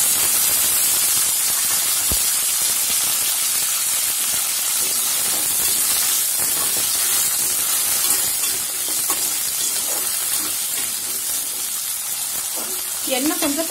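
Chopped onions sizzling in hot oil for a Tamil fish kulambu, a dense, loud, steady frying hiss with crackling spatter that runs throughout without pause.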